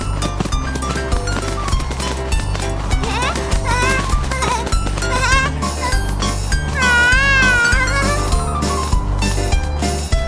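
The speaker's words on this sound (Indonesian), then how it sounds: "Astaga, itu kucing." A cartoon cat meows several times in a children's animated show, its wavering cries rising above a busy, loud music track with steady beats.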